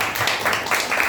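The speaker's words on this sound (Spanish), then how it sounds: "Un aplauso para los chicos." A church congregation claps for the children, a brief burst of dense, steady applause filling the room.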